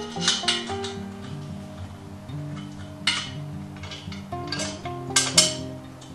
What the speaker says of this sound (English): And again, secure it with a nut.